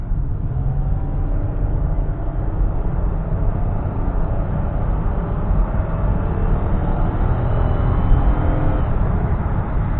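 A new van accelerates on the road, a steady broadband engine and road rumble holding strong and even throughout, with a slight swell near the end as it pulls harder.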